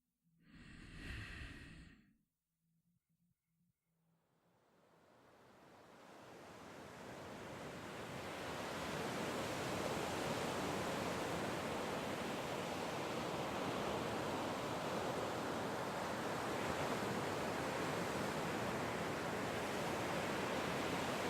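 After a brief breathy sigh, a soft wash of surf swells in and settles into a steady, continuous roar of waves.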